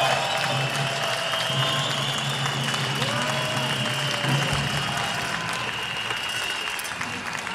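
A demonstration crowd on Ulm's Münsterplatz applauds in a sustained, even wash of clapping, with scattered whistles riding over it before it gradually thins toward the end.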